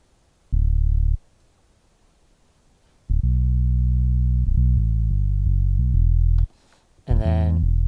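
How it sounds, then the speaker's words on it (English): A synth bass line played from a keyboard into an MPC Renaissance, heard as a short low note, a pause, then a run of sustained low notes, ending with a brighter sweeping sound. "I just played the bass line directly in from keyboard into the MPC."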